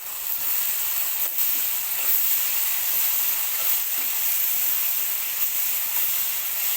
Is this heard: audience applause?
no